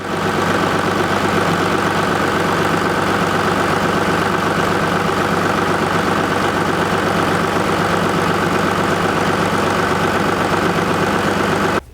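DTZ 5244 diesel tractor engine running cold, a loud, steady close-up idle with a rough knocking chatter throughout, ending abruptly.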